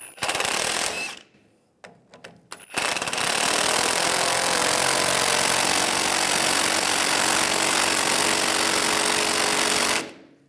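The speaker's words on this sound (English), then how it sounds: "using a 14mm wrench on the nut, 14mm socket, tighten this down" Wrench and socket tightening a 14mm nut on a front sway bar link of a 2007-2013 Chevy Silverado 1500, heard as a few brief clicks and then a long, loud, steady mechanical whirring like a power tool, close by and with no talk.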